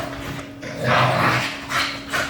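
A puppy barks and whimpers in a few short bursts close by, louder yelps rising in the middle and again near the end, with a steady low hum in the background.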